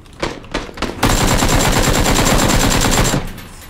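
Rapid automatic gunfire in a PUBG-style shooter game, with a few separate shots and then a sustained loud burst of about two seconds, close and dense. No talking.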